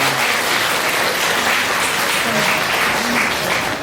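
Guests at a wedding ceremony in a convention hall applaud the bride and groom, with steady, dense clapping throughout and faint voices mixed in.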